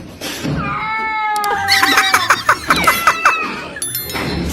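A frightened cat yowls in a drawn-out wavering cry, close and loud, followed by a rapid series of shorter pulsing wails and clatter.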